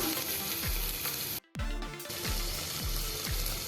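Crushed ginger, garlic and peas are stirred in a frying pan for veg paneer pulao, a continuous close sizzle broken by repeated spoon scrapes and a momentary dropout.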